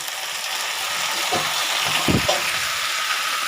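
Onion and gongura leaves fry in a pan, a steady hissing sizzle throughout with a couple of brief lower clatters from stirring or adding leaves partway through.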